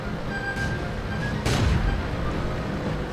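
Booming artillery explosions in the World of Tanks tank battle game, a heavy blast rising over a constant dense rumble of battle noise, with no talk.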